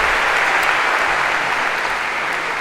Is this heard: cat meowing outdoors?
no